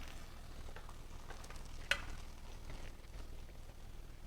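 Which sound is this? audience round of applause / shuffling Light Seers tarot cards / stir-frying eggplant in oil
stir-frying eggplant in oil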